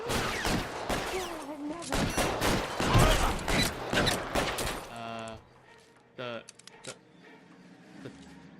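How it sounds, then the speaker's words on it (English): Shotgun blasts and gunfire in the crime game LA Noire, a dense burst of loud overlapping shots followed by quieter mechanical clicks and a few sharp isolated impacts. "Shotgun. Time for shotgun."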